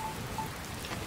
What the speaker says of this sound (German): Ich mag keinen Regen.